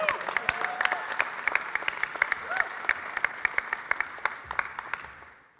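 A church congregation applauding, steady dense clapping with sharp individual claps standing out, slowly fading away at the end.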